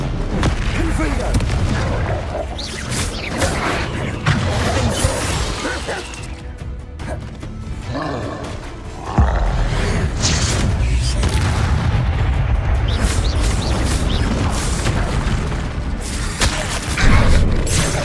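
Repeated Confringo fire-blast spells boom and crash during combat in the video game Hogwarts Legacy, dense and loud throughout, with a brief lull midway before the blasts resume alongside voices and game effects.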